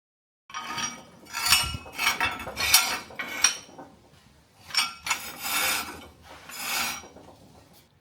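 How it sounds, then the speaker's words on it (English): A flap disc cleans up cut welds on steel during crane fabrication, making a run of close, rasping grinding passes that start and stop in uneven bursts, with no voices. "clean them up with a flappy and move on to the next one"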